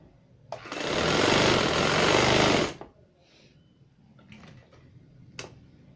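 A sewing machine stitching the back seam of a pair of trousers in one loud, close, rapid run of about two seconds, followed by quieter clicks and handling sounds.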